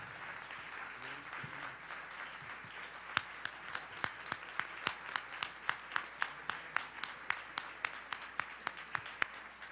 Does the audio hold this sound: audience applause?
yes